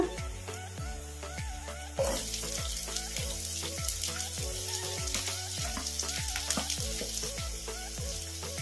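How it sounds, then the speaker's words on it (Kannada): Finely chopped medium onions with green chillies frying in oil for a spicy masala bread toast: a continuous close sizzle with rhythmic stirring scrapes throughout, brightening after a couple of seconds. "ಒಂದು 2 ನಿಮಿಷ ಎಣ್ಣೆಗೆ ಸುಮ್ಮನೆ ಹಿಂಗೆ ಫ್ರೈ ಮಾಡಿಕೊಂಡ್ರೆ"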